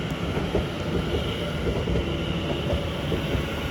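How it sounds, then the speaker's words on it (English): A Greater Anglia Class 720 electric train rolls into Chelmsford station, a continuous close rumble of wheels and motors with faint rhythmic rail clatter throughout. "Incoming now is the delayed 1635 Greater Anglia service to Ipswich."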